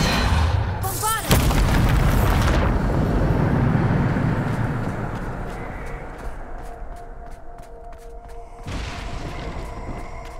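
A Bombardment spell cast in Hogwarts Legacy sets off a loud booming blast with a broad rumbling roar that slowly fades over several seconds, followed by a later, smaller burst of crackle.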